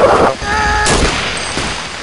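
Gunfire in a war video game: sharp loud bursts of shots rattle close by, with a few louder cracks and a steady din of battle noise through the short stretch.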